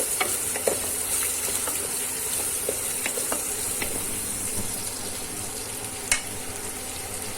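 Spices, Kashmiri red chili powder and coriander-cumin powder, stirred and frying in a pan for a sweet potato curry, giving a steady close sizzle with occasional scraping clicks throughout.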